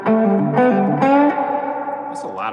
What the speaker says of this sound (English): That's a lot of reverb, isn't it?